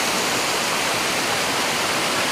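Waterfall at Coban Sadang in the Alas Pujon forest, a constant loud roar of falling water, broadband and steady from start to finish with no voices.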